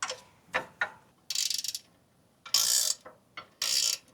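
A wrench clicks and ratchets on a lock nut on a Jeep's steering linkage, in several short bursts of metallic clicking separated by brief pauses, close and fairly loud.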